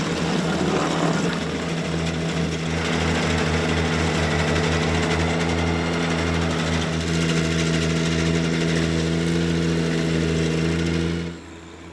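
A subcompact tractor running a PTO stump grinder, with a steady droning engine and a whirring cutter hum that hold throughout, loud and close, dropping off at the very end.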